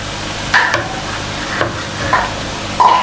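Potato pieces fry and sizzle in a pan for Pakistani-style achari aloo, with several scraping stirs of a spatula against the metal over a steady hiss of oil, and no talking.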